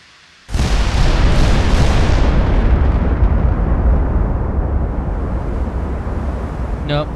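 Warship turret guns firing in the naval game Ultimate Admiral: a sudden loud boom at the start rolls into a sustained, heavy rumbling roar that slowly fades over several seconds.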